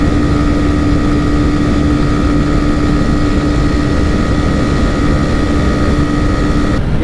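A Pulsar 125 motorcycle runs at top speed in a drag race against a TVS Raider 125, its engine holding a loud, constant high-revving drone with wind rush and no break in pitch.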